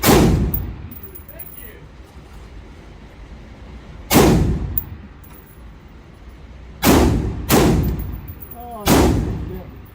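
Gunshots ring out at an outdoor shooting range with a first-time shooter, four sharp loud reports with long gaps, the last three closer together, each trailing into a brief echo.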